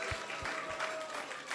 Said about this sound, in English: So let's give him a big round of applause and thank him for a discourse.